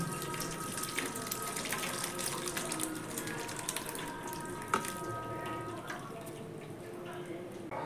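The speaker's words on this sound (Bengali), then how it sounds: "এবার এই ছানাটায় অল্প একটু জল দিয়ে ছানাটাকে একবার ধুয়ে নেব।" Water poured from a tap over chhana (cottage cheese) in a large strainer runs in a steady, soft splashing stream, fairly faint, with a brief clink partway through.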